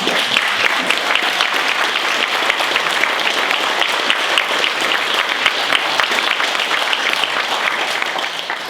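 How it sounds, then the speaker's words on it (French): Sustained applause from a crowd, steady and dense clapping throughout, fading slightly at the very end. "je propose de l'applaudir si vous êtes d'accord"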